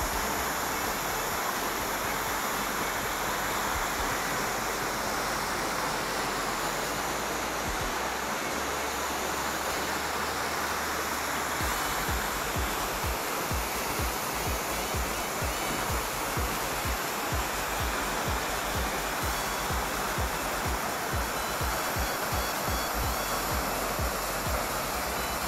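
Skakavac waterfall near Kotor Varoš, heard from close by as a loud, continuous roar of falling water that runs steadily throughout with no voices.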